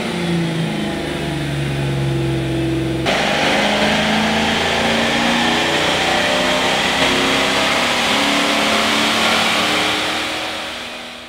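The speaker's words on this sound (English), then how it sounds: "Kelvy makes a pull on the dyno, and it makes good horsepower, somewhere around 225" The engine of a 1970 GMC revs hard during a dyno pull, roaring loud and close in a steady, sustained rise after a lower idle-like start, then fading at the end.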